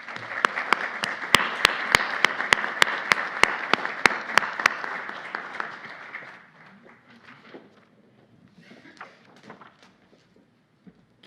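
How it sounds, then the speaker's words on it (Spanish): Audience at a seminar on the accusatory criminal justice system in Mexico City applauds loudly for about six seconds, the clapping then thinning out into scattered claps and quiet room noise. "Un aplauso, por favor."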